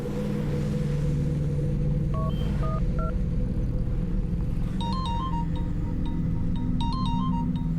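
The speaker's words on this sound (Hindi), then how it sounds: "अनु, देखना किसका फोन है" A telephone rings with short electronic tones, first a few single beeps, then repeated chirping ring bursts over a steady low engine-like rumble.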